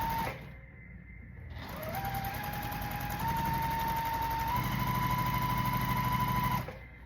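A sewing machine stitches a quilt block in one steady, continuous run, starting after a brief pause, humming evenly at close range and stopping abruptly at the end, with no talking.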